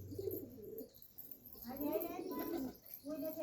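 Pigeons cooing softly at a rooftop loft, with low, rolling coos in several bursts and short pauses between them, fairly faint and close, with a voice speaking at times.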